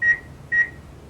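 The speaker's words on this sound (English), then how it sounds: "Microwave, handy. We're going to melt this butter." A microwave oven being used to melt butter gives two short, clear electronic beeps about half a second apart over a faint background hum, with no voices.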